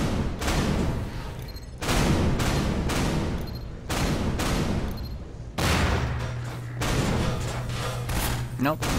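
Bursts of gunfire from the Half-Life 2 video game, a dense, loud fusillade that keeps going in long stretches with brief breaks, while a player talks over it.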